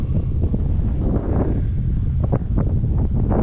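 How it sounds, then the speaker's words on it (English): Strong wind buffets the microphone with low rumbling gusts on a valley walk near a dam, steady and loud, and rustling leaves underneath. "A bit windy."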